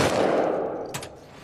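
Gunfire at targets in The Last of Us Part II, a dense burst of shots that fades over the first second, then a single sharper crack near the end with no voices.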